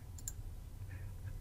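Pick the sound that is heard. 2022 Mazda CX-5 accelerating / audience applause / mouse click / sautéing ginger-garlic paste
mouse click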